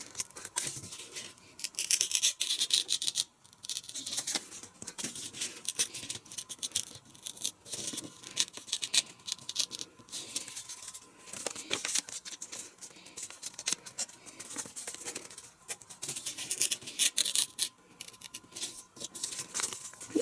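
Sheets of paper torn by hand along folded lines, a run of close crisp rips and crinkles with short pauses between strokes, no talking.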